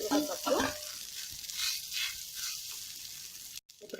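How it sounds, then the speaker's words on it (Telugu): Boiled rice hits a hot pan of fried cumin seeds for jeera rice, giving a steady close sizzle with a brief stir and a short break near the end. "ఇప్పుడు ఇందులో మనం ఉడకపెట్టుకున్నటువంటి రైస్ని వేసుకుందాము."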